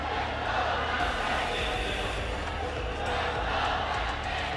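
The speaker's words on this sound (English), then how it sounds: "Listen to that crowd." A large esports arena audience roars and cheers steadily at an Apex Legends championship grand final, a dense, continuous wash of crowd noise throughout.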